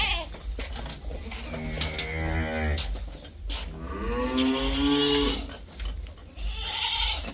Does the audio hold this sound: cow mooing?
yes